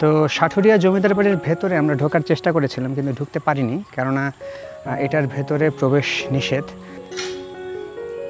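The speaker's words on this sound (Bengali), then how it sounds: "ঝিঝি ডাকছে" Crickets in the garden behind an old zamindar house keep up a steady, thin, high-pitched trill in the background, running faintly beneath continuous talking.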